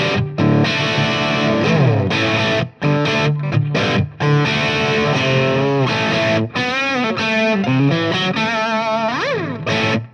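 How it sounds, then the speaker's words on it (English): Distorted electric guitar through a Fender Tone Master Pro playing chords and bending lead notes, loud and continuous, with a washy 65 spring reverb tail around the notes. "Let's just go for a 65 spring reverb, shall we?"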